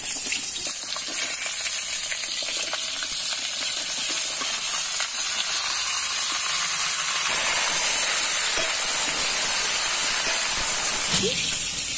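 Eggplant and potato pieces frying in oil in a wok give a steady, loud hiss and sizzle that runs unbroken throughout, with faint scraping and clicking underneath.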